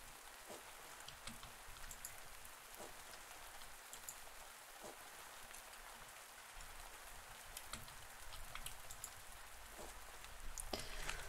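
Steady light rain in the farming video game Pumpkin Days, a soft continuous patter with occasional sharper drop taps, faint and unbroken, with a low hum beneath.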